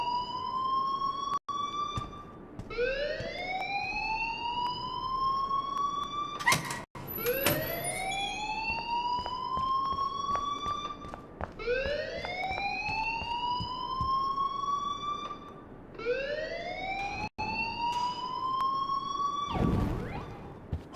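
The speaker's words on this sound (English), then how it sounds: "please turn off that alarm since that's your job" An alarm in the video game Life is Strange wails continuously, a loud rising siren tone that sweeps up over and over at a steady pace, each rise starting low and climbing, with brief clicks between cycles and no voices.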